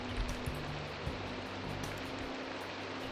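Rain falling in the video game Minecraft, Gregicality Skyblock modpack: a soft, continuous hiss of rainfall at low volume, with faint low tones underneath and no talking.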